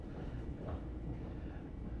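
Quiet low rumble of a commuter train riding between Penn Station and Jackson Heights in Queens, a steady rolling drone heard from inside the car with no talking.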